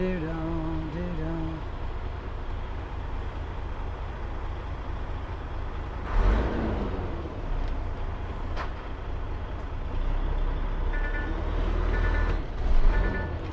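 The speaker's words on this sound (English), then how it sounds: "Dropping the suspension down" An HGV trailer's air suspension being lowered in a yard gives a loud, continuous low rumble and hiss with a few louder surges and mechanical clunks near the end.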